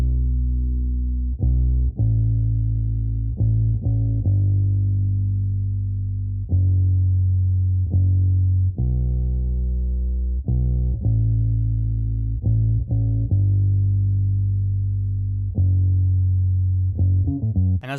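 A gritty, distorted synth bass line built in FL Studio for an alt R&B beat plays alone, with deep sustained notes in a repeating rhythmic pattern and the highs cut away.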